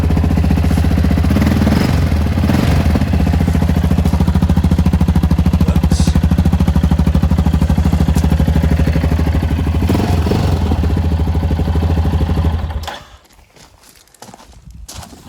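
A nearly new Yamaha XT 660 X single-cylinder motorcycle fitted with baffles runs loud and close, a steady, throbbing engine note holding for about thirteen seconds before cutting off to near quiet.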